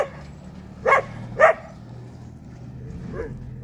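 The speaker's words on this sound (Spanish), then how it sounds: "¡Ay, qué perros!" Two sharp dog barks ring out about half a second apart over a low background hum in an outdoor rural setting, followed by quiet and a fainter third sound near the end.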